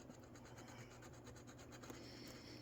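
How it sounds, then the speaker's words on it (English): A small square jeweler's file lightly rubs a metal contact on an Athearn Genesis C44-9W model locomotive, making a steady, quiet, continuous scratchy rasp that stays close and even throughout. "I'm going to take my little square file, jeweler's file, and I'm just going to lightly rub this part just to clean it."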